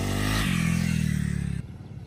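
A Honda CRF 300 L trail bike on an off-road track revs loudly and close up, its engine note climbing under throttle before dropping off sharply as the rider eases off.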